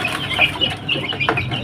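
Three-week-old AKA and Joper chicks cheep and cluck in quick, overlapping high peeps, close and fairly clear over a low background hum.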